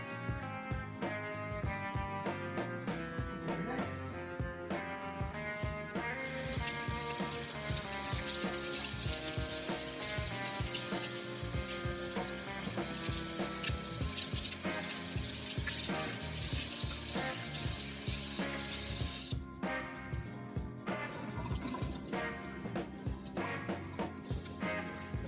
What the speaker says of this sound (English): I'm going to rinse it off before I put the deep treatment in